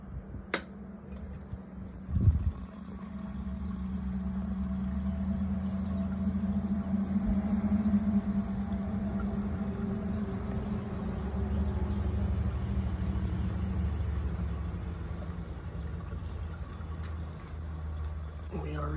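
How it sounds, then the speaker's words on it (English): Recirculation pump starting up in a VEVOR all-in-one electric brew kettle while brewing an IPA, giving a steady low hum and whir that runs continuously after a brief knock, with some faint background noise. "So, let's turn on the pump and we should be good to go."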